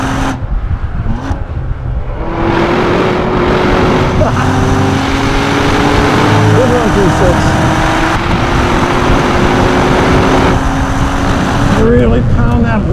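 Cadillac V-series sedan with a manual transmission, a 2016 CTS-V or ATS-V, lapping Laguna Seca raceway: a loud, steady engine drone with rising and falling pitch through gear changes and braking zones, continuous throughout.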